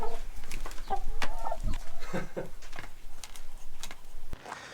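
Chickens on a farm in Portugal cluck and murmur close by, with repeated short calls over a constant noisy background and no talking.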